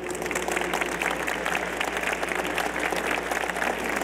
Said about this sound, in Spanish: ¿Podéis aplaudir? Fuerte.